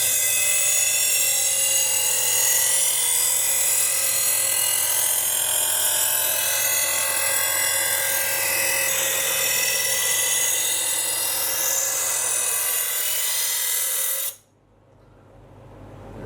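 High-pitched whirring grind of a powered sharpener working a kitchen knife blade, continuous and close for about fourteen seconds before cutting off abruptly.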